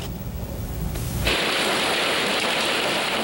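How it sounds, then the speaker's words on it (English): Hail pounds a car lot during a storm, starting as quieter rumbling before a sudden dense, loud roar of hard impacts that continues steadily to the end. "This is a Bloomington car lot getting pounded by the hail that moved through this afternoon."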